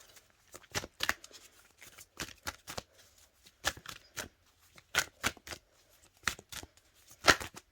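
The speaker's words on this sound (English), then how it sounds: "Let me pull one more card." Tarot cards being shuffled and pulled, a series of crisp riffling bursts in uneven clusters, close and moderately quiet, with no talking.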